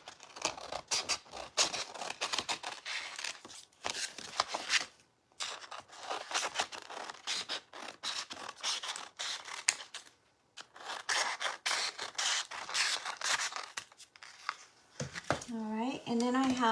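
Scissors snip small pieces of sugar paste for flowers, their blades sticky with royal icing. Quick, close crisp cuts come in bursts separated by short pauses, and a voice is heard briefly at the end.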